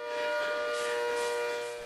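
Siren Head's wail in a horror video game, a sustained, rising and falling siren tone with strong harmonics that swells and fades, loud and alone with no talk over it.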